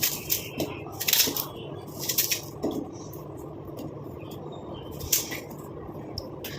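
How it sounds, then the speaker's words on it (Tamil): Whole unpeeled onions drop into a mixer jar, giving several hard knocks and clunks against the jar at uneven intervals, fairly close and otherwise quiet. "வெங்காயம் இந்த மாதிரி தோலெல்லாம் உரிக்கணுன்ற அவசியமே இல்லை நம்ம அப்படியே இதை வந்து மிக்சி ஜாரில் வந்து ஆட் பண்ணிக்கலாம்"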